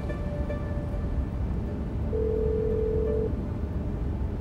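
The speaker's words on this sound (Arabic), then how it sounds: "بدك افتحي التليفون بسرعة" A telephone rings in an indoor scene of an Arabic TV drama, heard as one steady electronic tone lasting about a second over a constant low background hum, with no voices.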